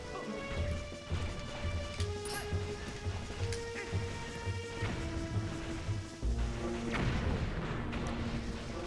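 Bomb explosions in Zelda: Twilight Princess, several heavy booming crashes rumbling over layered game music and effects, fairly loud and repeated throughout.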